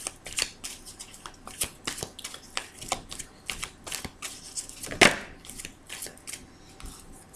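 Oracle cards being shuffled by hand during a tarot-style angel card reading, giving a steady run of quick papery riffles and slaps at close range, with one sharper snap midway and no voices.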